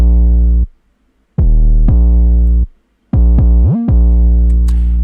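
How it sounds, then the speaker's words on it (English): Booming FL Studio 808 bass line, loud and deep, in sustained notes with gliding pitch slides, two abrupt cutoffs into silence, then a quick run of short stabs and sliding notes. "We have the 808. This is the main instrument in the whole song because it's going crazy."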